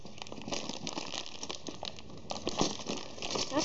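Crinkling and crumpling of a plastic bag holding COGO Brixbolt Hawk building blocks as someone struggles to open it, a steady close rustle with sharper crackles, no talk.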